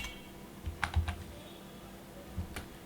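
Keystrokes on a computer keyboard while entering Stata commands, a few quiet clicks in a short burst, then a lone tap after a pause, faint against a low steady room hum.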